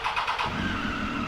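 A car pulling away hard in first gear on cheap fuel, its engine revving up loudly and steadily for just over a second with no talk over it.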